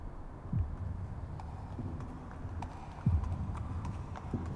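Horse hooves clip-clop on a city street in Leicester, a slow, irregular series of hollow knocks at moderate distance over a low background rumble.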